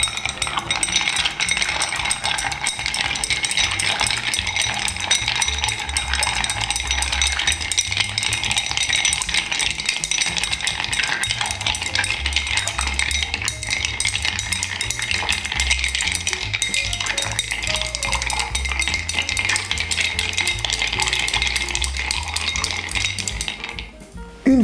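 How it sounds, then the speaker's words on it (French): Brandy with sugar syrup and angostura bitters is stirred energetically, producing a continuous, busy jangle of rattling, clinking metal and glass that stays steady and loud almost to the end. "on mélange le tout énergiquement durant quelques secondes"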